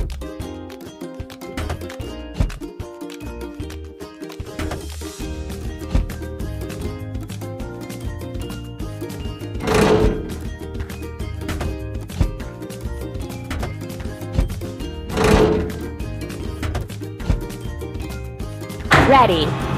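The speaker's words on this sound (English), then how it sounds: "Hydraulic hammer." A hydraulic hammer in a kids' construction video game pounds in a few sharp, heavy strikes spaced several seconds apart over bright, steady game music.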